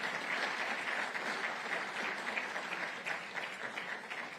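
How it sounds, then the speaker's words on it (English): Summit audience gives the forum experts a warm round of applause, steady dense clapping from a large room heard at moderate distance, sustained evenly for several seconds without voices. "please join me in a warm round of applause of appreciation for all of our forum"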